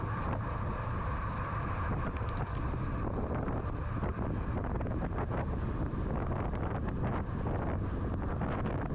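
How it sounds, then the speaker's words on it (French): Wind roars steadily and loudly across the microphone of a bicycle speeding downhill during a time trial in Bonifacio, Corsica, a dense broadband rush with no voices. "Et en fait, plus on descend à ce moment-là, plus le vent est important."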